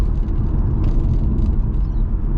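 Honda Accord CL9 with a 5-speed automatic accelerating hard, a loud close engine drone with low rumble that holds steady over a couple of seconds.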